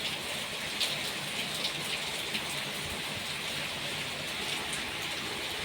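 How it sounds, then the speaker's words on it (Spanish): A downpour of heavy rain with wind hisses steadily over a street as water runs along it, a constant loud wash with a few slightly louder splashes and no speech. "Con aire, está con aire la lluvia. Bien fuerte."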